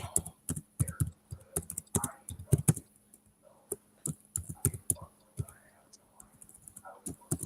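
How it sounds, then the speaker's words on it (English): Someone types on a computer keyboard, tapping out irregular bursts of quick clicks while a low voice murmurs under the keystrokes. "I'm just getting typing some information for Gigi, for my girl Gigi."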